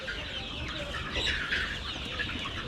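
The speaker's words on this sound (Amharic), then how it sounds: "ያው የታመሙ ምናምን ዶሮች ነው።" Sick hens kept apart on a chicken farm cluck and murmur close by, a steady chorus of overlapping calls with a brief flutter of wings.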